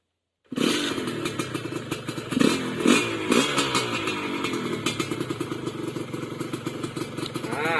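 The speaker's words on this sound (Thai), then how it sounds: "พอฟังเสียงเครื่องยนต์กันนะ" A Honda Dash motorcycle engine starts up and runs steadily close by, with a few louder throttle blips early on before settling into a rumbling idle.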